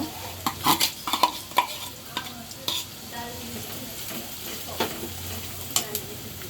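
Fish roe going into onions fried for a minute makes a soft, close sizzle broken by bursts of spoon scraping and clinks as the pan is stirred.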